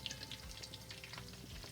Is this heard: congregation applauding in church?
no